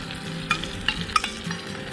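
Hokkien mee noodles with oyster sauce and dark soy sauce are stir-fried over a continuous low sizzle, punctuated by a few sharp utensil clinks against the pan, close and fairly quiet, with no voices.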